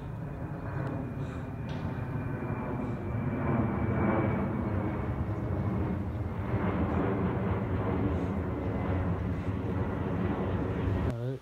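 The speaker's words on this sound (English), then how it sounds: "The fire retardant jet." Fire retardant jet aircraft flying over a wildfire, a loud sustained roar with heavy low rumble that swells slightly midway and holds steady, without talking.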